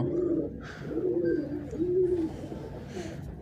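Pigeons kept loose outdoors after rain coo in low, rolling phrases, three or four close calls repeating without pause, with faint chirps in the background.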